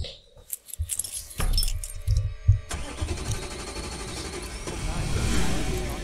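Keys jangle, then a car engine turns over and starts in the horror video game Infliction, with the engine idling steadily and fairly loud afterward.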